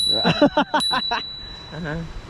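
A bicycle bell rings in a quick series of bright, metallic dings up close, followed by someone talking.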